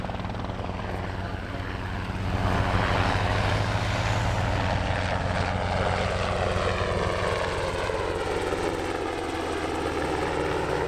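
Black Hawk military helicopter flying at a military airshow: a steady, loud rotor and engine roar with a throbbing blade beat that holds for the whole stretch, no voices.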